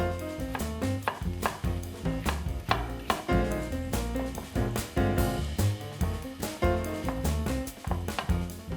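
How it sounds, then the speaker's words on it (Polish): A knife chopping onion into medium dice on a board: quick, close, sharp taps in an irregular but steady rhythm, loud and alone for several seconds. "W międzyczasie pokroję kawałek cebuli taką średnią kostkę."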